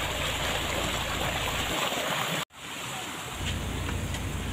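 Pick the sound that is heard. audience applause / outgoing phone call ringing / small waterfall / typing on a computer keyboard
small waterfall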